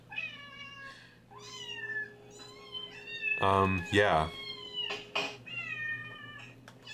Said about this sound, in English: the sound of a cat